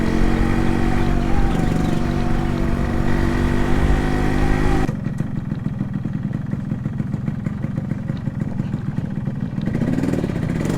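Several motorcycle engines idle and rev at a bikers' gathering around an RX115, a steady loud droning mass that drops to a quieter, rougher running hum partway through.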